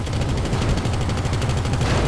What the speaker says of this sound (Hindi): टैप से गोली चलती है